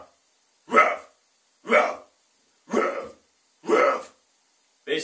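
A person imitates a dog's bark as a vocal screaming exercise: five loud, harsh, close barking shouts about one second apart, separated by silence.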